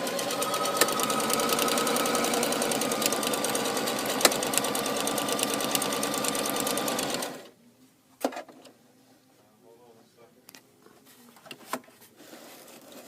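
Sewing machine stitching a buttonhole: a fast, steady mechanical chatter runs loud for about seven seconds, then stops, followed by a few faint clicks and handling noises.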